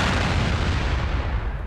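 A cell phone ringtone that imitates a bomb explosion booms out loud and close as one continuous, rumbling blast with no talk over it.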